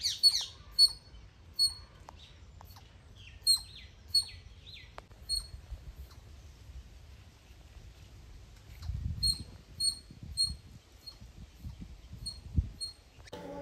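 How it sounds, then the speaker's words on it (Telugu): At Kolleru Lake, a squirrel gives bursts of sharp, high chirping calls in two clusters, with quieter low rustling and handling noise between them; faint overall. "ఇక్కడైతే చూడండి ఒక ఉడత అయితే ఉంది. అది సౌండ్స్ అయితే చేస్తుంది."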